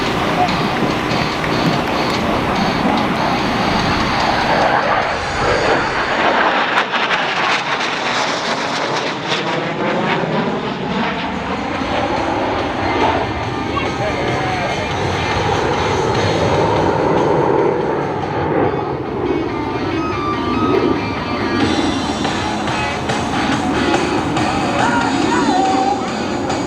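AV-8B Harrier jet flying a pop attack at a military airshow, a loud continuous roaring jet engine whose pitch sweeps and shifts as it passes, with an announcer talking over it throughout.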